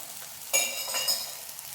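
Cucumber roti cooking on a pan over a medium flame: a quiet, brief lull, then a sudden loud sizzle as the roti is flipped, settling into a softer hiss.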